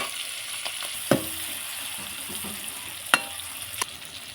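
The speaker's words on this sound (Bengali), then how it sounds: "দেখো চিংড়ি মাছটা আমি একটু ভেজে নিচ্ছি।" Shrimp frying in a pan with green chili and onion, a steady sizzle under a few sharp clicks and taps of a utensil, close and moderately quiet.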